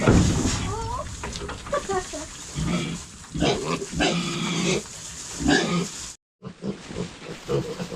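Native piglets, two of them being picked up after purchase, squeal in sharp, repeated bursts close by, mixed with people talking throughout and a brief dropout near the end.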